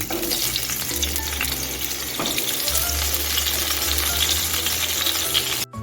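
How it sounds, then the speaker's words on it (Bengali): Eggplant fries in mustard oil in a nonstick wok, making a loud, continuous sizzle close by with light stirring and scraping sounds, over a low steady hum. "এখন বেগুনগুলি আমি লাল করে ভেজে নিচ্ছি"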